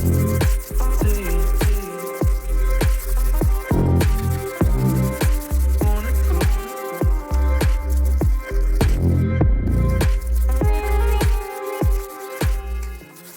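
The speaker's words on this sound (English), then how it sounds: "So yeah, time to sand." Rusty metal in a car engine bay is sanded by hand in loud, close, rhythmic rasping strokes that repeat steadily for over ten seconds, with no talking.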